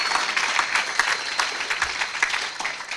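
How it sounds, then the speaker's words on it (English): A room full of people gives steady, fairly loud applause, a thick rolling patter of many hands clapping for a few seconds with no voices on top. "I think you deserve a round of applause for yourself."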